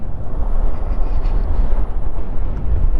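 A TVS Orbiter electric scooter ridden at full throttle gives a steady, close, broadband rush of wind and road rumble with no pauses and no voices.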